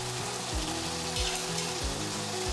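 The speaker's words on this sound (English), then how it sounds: "we start to move the pasta here to stir with all this amazing juice" Pasta is stirred through a tomato and tuna sauce in a pan, giving a dense, continuous sizzle up close, with a bubbling, wet stirring rhythm and no talking.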